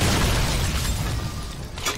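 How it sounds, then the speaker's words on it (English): Explosion in the video game Shadow Warrior 2, a loud, dense boom with a rumbling low end that fills the moment and slowly thins out. "Explosion."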